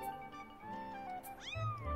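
A cat meows in the Zelda: Skyward Sword video game, a short bending cry near the end that rises and falls over soft game music.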